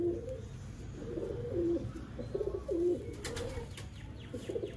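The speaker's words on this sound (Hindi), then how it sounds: "ये हमारे उड़े हुए कबूतर हैं" Domestic pigeons kept for flying on a rooftop in Sialkot, Pakistan, coo repeatedly in soft low throaty phrases, fairly close but quiet, with a few faint chirps and light rustling and no talk.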